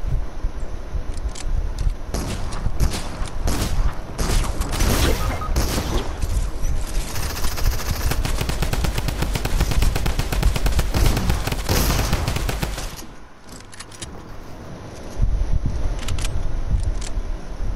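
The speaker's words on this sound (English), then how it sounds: "Machine gun." Machine gun fire in Fortnite rattles loud and close in dense, continuous bursts for about thirteen seconds, then drops off briefly before the shooting resumes.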